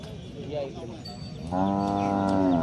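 A single deep, drawn-out moo from a large Punjab-breed bull at a livestock market rises out of background chatter and lasts to the end, loud and close.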